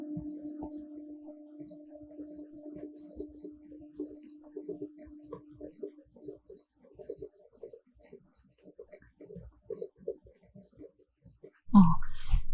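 Soft, irregular keyboard typing on a computer while entering text in a Korean word-processor exam exercise, a steady patter of quiet key clicks with a brief louder burst near the end.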